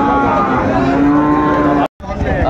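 Loud, sustained mooing of Sahiwal cattle at a farm in Chattogram, a long low bellow followed by a brief cut and another moo starting.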